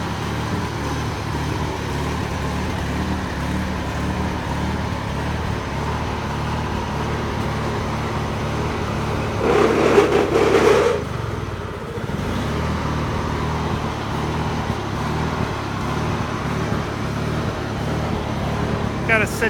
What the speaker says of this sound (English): Here you have a white LT1680 hydro tractor.